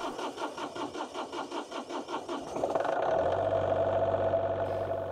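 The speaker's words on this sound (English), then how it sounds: "First job is to warm the engine up." A Volvo Penta D1-30 marine diesel engine on a small boat cranks with a rhythmic chugging for a few seconds, then catches and settles into a steady, loud idle nearby.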